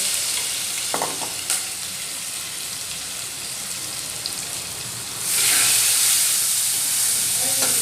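Green chili and garlic paste sautéing in a hot pan for a Marathi ambadi leaf bhaji, with steady close frying hiss and occasional stirring scrapes; the sizzle swells louder in the final stretch.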